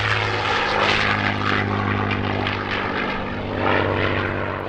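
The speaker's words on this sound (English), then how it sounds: "Bernie Vasquez performed in P-51C Mustang Thunderbird, which made its post-restoration return to flight less than 2 months before Airventure" A P-51C Mustang warbird roars past at an airshow, its propeller engine a loud, continuous droning growl that swells and fades slightly as it flies by.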